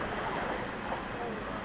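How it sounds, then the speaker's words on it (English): An Azuma class 800 train, unit 800 105 bound for Leeds, races through a station at speed, producing a steady, loud broadband roar that lasts throughout with no pause. "Azuma 800 105 to Leeds. The Azuma zooms through."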